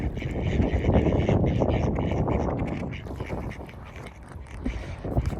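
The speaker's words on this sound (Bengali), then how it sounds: "এখানে দেখেন অনেক মানে পাখি ছিল হাঁসও আছে এগুলো পাখি" Ducks quack repeatedly at a park lake in Russia, a dense, busy chorus of calls close by with steady outdoor background noise throughout.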